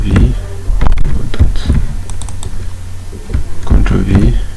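Keys clicking on a computer keyboard as a Ctrl V paste shortcut is pressed, a few sharp taps scattered among low background hum and occasional talk nearby.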